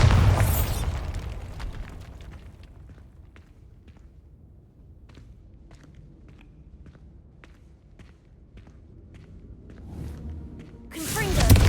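A Bombarda spell blast in Hogwarts Legacy, with a loud booming burst at the start and another at the end, quieter footsteps and faint pops between them.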